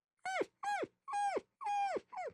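A person's voice imitates a whimpering puppy: five short, high, whiny cries in a quick even series, each bending downward at the end, close and clear against silence.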